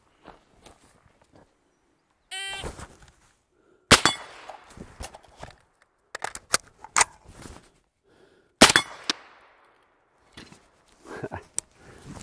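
Suppressed gunshots from a rifle fitted with a direct-thread suppressor, each dull pop followed by the ringing clang of a steel target; several spaced shots with sharp ringing impacts, plus a brief whirring mechanical burst early on and faint shuffling between.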